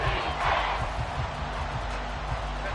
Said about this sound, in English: The Arrowhead crowd in full roar.